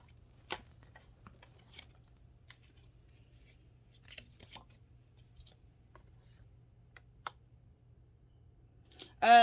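Tarot cards are shuffled and drawn in quiet, sparse soft clicks and brief riffles over a low hum, with a louder handling noise at the end.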